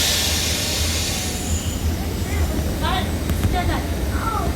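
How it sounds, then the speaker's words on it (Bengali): A train rolling slowly into Venice Mestre station, a low steady rumble of wheels on track with thin squeals and chirps above it while people talk nearby. "বেশ ধীরে সুস্থে ট্রেনটা মনে হচ্ছে বেশ ক্লান্ত"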